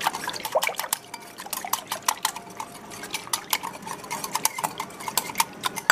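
Chicken is mixed by hand with a wet marinade of spices and hot sauce in a bowl, making close, quick, squelchy slaps and clicks in an irregular rhythm, with no speech.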